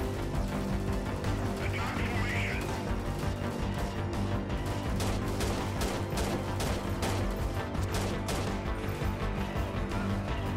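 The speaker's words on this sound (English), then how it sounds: "Someone is shooting me from over there, but I cannot see them at the moment" Enemy gunfire in Freeman: Guerrilla Warfare, a sustained barrage of rapid shots crackling over a dense battlefield din, with a voice talking over parts of it.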